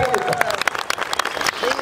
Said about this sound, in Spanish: fuerte el aplauso, pero más fuerte, por favor